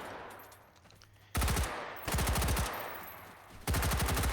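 Three bursts of automatic gunfire in a video game, fired across a very long room at range, each a rapid train of sharp, loud shots separated by brief quieter gaps.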